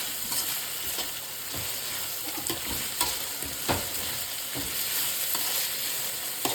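Tomato frying and being stirred in a pan for rice upma, a steady close sizzle with periodic scraping stirs, no talking.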